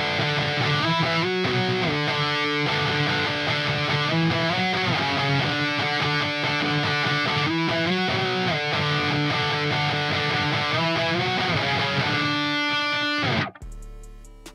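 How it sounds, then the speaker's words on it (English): Distorted electric lead guitar playing octave melody lines over a programmed metal beat, dense and loud throughout before cutting off abruptly near the end. "Now for the octaves, which I guess you could say are lead guitars in this case, they sound like this."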